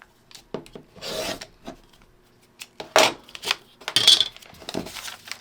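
Paper being trimmed to a quarter-inch seam allowance during quilt paper piecing, heard as close, irregular scraping and rasping cutting strokes with short pauses between them.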